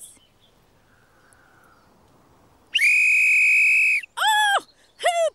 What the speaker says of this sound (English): It's a whistle that both Hoobs and Tiddlypeeps can hear.